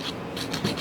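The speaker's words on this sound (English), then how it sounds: "I'm taking the shine off the tips now so that the acrylic could stick better" A file buffs the shine off acrylic nail tips in quick, close scratchy rasping strokes, about four back-and-forth passes in under a second, alone with no talk.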